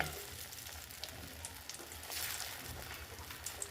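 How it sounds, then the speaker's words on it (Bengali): Pieces of elephant foot yam dhoka fry in oil, giving a faint, even sizzle with light crackles and no voices. "দেখুন এবার আমি তেলে ছাড়ছি এইভাবে ভেজে নিতে হবে"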